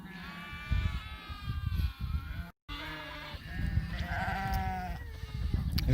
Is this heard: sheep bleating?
yes